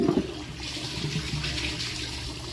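A Glacier Bay toilet flushes with a swim shirt in the bowl, a loud rushing gurgle of water that starts abruptly and keeps draining steadily without pause.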